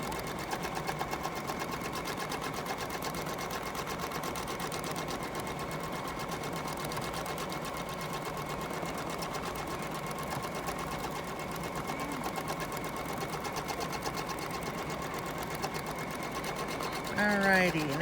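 A sewing machine quilting along a Farrell's mini moons and stars template runs in a steady, continuous whir for most of the stretch, fairly close, before stopping near the end.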